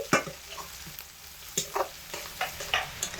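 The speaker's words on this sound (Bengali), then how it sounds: "তেলের মধ্যে রসুন আর পেঁয়াজ দিয়ে একসাথে খুব ভালোভাবে নেড়ে চেড়ে লাল লাল করে দিচ্ছি" Chopped garlic and onion fry in hot oil, a soft steady sizzle punctuated by brisk spatula scrapes and taps against the pan, close and quiet, with no voices.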